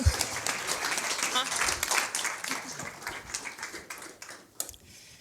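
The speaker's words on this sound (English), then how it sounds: "Can we give a round of applause to Bennett Maxwell, please?" An audience applauds Bennett Maxwell, founder of Dirty Dough, with a fairly faint, uneven patter of clapping and a few sharper claps near the end.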